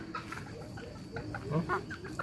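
Bantam chickens cluck in short, soft bursts close by, with a few louder squawking notes near the end, over faint background noise.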